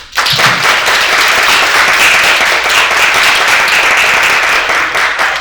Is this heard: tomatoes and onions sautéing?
no